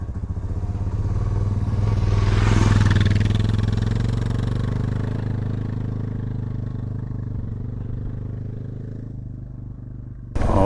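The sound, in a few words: motorcycle riding out on gravel road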